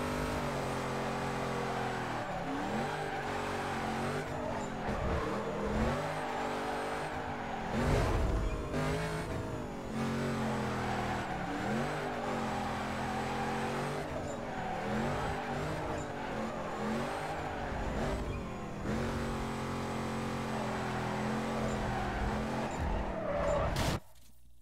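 A Chevrolet Camaro with a level 2 engine in Need for Speed Carbon roars and revs continuously, with shifting engine pitch and repeated tire squeals through hard cornering, loud and sustained throughout.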